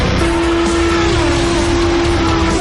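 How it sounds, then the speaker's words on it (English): Indy 500 race cars at the 91st running roar back up to speed on the restart, a loud continuous engine drone with a steady high whine and tire noise throughout, no voices. "All have restarted the engines, and 28 drivers will resume the pace."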